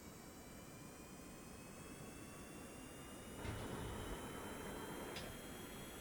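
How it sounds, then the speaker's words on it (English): Jet engines running, heard as a quiet, steady broadband roar with a thin high whine on top, continuous and distant-sounding with no voices. "it sounds like jet engines are on right now."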